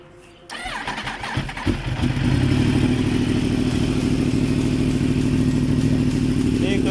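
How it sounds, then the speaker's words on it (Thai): A Yamaha R1 sport motorcycle with an aftermarket sword-tip exhaust starts, then its exhaust rumbles loudly and holds a steady, throaty drone, up close. "โอเค เรามาฟังเสียงท่อกันดีกว่า"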